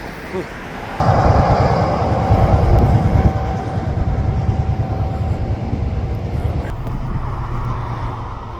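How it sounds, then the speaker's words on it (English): A westbound SkyTrain rolling into Sapperton station, a sustained rumbling rush with a steady tonal whine riding over it, loud and close, mixed with nearby road traffic. "Just trying to get the sky trains rolling in"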